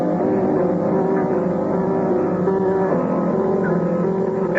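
A sailing ship's engines run up to full ahead as the vessel gets under way, a steady, dense low rumble and churn holding at an even level throughout, with no voices over it.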